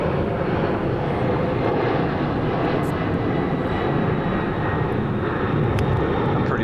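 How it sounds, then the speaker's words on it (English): Jet aircraft passing over a golf course during a women's professional tournament final round, a steady broadband roar that holds throughout, fairly loud and distant, with no talk. "I'm pretty sure she didn't even hear that jet."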